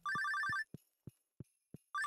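A trilling in-game phone ring from Stardew Valley sounds in two bursts, with a run of soft, evenly spaced low thumps between them, heard alone and fairly clear.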